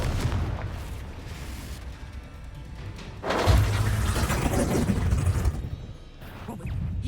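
Spell explosions from the Hogwarts Legacy video game: loud booming blasts over a dense rumbling bed, with a heavier burst midway and a sharper hit near the end.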